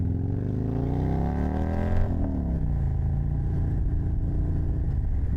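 A motorcycle engine revving up through a gear, its pitch climbing steadily before a shift drops it, then pulling again in a loud, close drone with faint wind noise.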